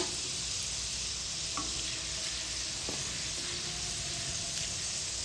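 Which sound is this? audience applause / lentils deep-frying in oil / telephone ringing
lentils deep-frying in oil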